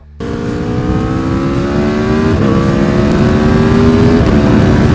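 Motorcycle engine on a race track revving hard under acceleration, a loud continuous close-up roar with rising harmonic pitch that briefly dips at a gear shift midway, then climbs again without pause.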